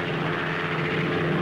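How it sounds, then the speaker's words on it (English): A steady, loud engine roar with a constant whine from a Jet Gyrodyne research helicopter at the 1955 Farnborough Air Show, unbroken and close throughout. "the Jet Gyrodyne, a research helicopter"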